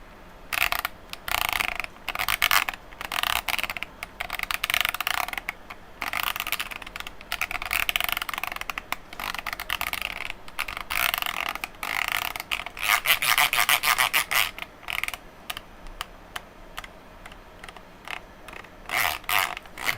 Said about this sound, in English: But that's a super satisfying click. Bit of Lego ASMR there for you.